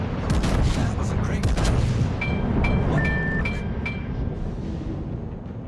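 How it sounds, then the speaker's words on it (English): Ship guns firing salvos in World of Warships from the T9 IJN Daisen, a dense, loud stretch of booming blasts with some metallic clinks and tones near the end and no talk. "Fire salvo separately."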